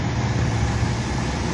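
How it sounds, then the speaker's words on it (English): An AC induction motor with freshly replaced bearings runs steadily, giving a close, even mechanical drone with a low rumbling hum and broadband whir. "the motor is spinning."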